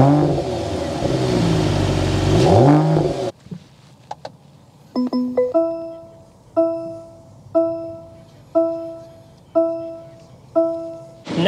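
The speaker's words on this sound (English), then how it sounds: "start it up so you can hear that exhaust note" A 2024 Mercedes-AMG GT53 engine and exhaust rev loudly in rising and falling sweeps for a few seconds. Clicks follow, then a repeating two-tone cabin chime sounds about every second.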